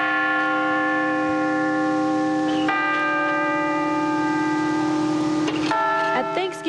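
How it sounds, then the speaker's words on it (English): Church bells toll loudly and continuously at a Dallas–Fort Worth house of worship on the day of the 9/11 attacks, their sustained tones overlapping, with a new strike sounding every few seconds. "the bells that normally toll for peace and hope toll for sorrow this day"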